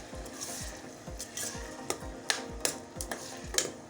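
A spoon stirs vegetable stew in a pot with a quick, regular rhythm of scraping strokes, and a few sharper clinks ring out against the pot's side.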